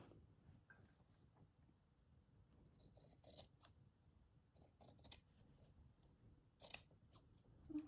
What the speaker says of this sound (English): Just cut some fabric